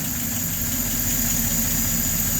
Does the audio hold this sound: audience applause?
no